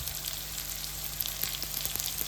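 Mushroom curry with turmeric frying in a pan in a Konkani-style home kitchen, giving a steady, close sizzle with faint crackles and occasional small clicks throughout, no voices.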